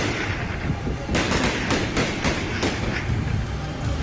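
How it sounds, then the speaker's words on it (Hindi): Taliban fighters fire on a street lined with cars in Afghanistan news footage: a rapid string of sharp gunshot cracks bursts out in the middle, over a constant rough, noisy background. "सड़क पर गाड़ियों की कतार लगी है और आतंकी अंधाधुंध गोलियां बरसा रहे हैं।"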